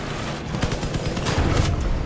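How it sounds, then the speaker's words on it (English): Vehicle-mounted weapons in the PS4 game Crossout fire in rapid rattling bursts, a dense fusillade of overlapping shots with low booming thumps underneath, continuous across the moment. "Wait for me, I'm not done shooting you."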